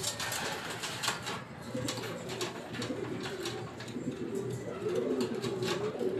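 Racing pigeons, young birds back from a derby, coo softly at a loft amid faint rustling and distant ambient noise.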